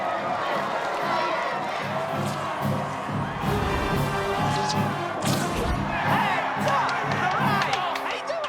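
A crowd gathered at a Spider-Man film shoot on a New York street cheers and shouts continuously, a dense, loud wall of voices with whoops rising near the end.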